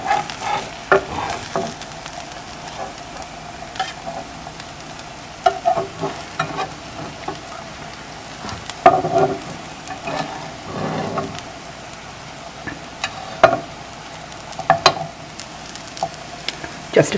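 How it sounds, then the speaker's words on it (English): Colcannon cakes frying and browning in a pan, a steady crackling sizzle punctuated by irregular louder pops and spatula scrapes, with faint talk at moments. "My Colcannon cakes have browned on the first side, and I'm ready to flip them over to brown on the second side."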